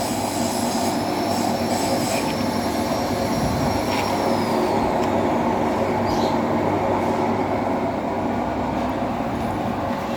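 A large CD6240A metal lathe with a one-metre bed runs with a loud, steady mechanical drone. A thin high whine glides down partway through.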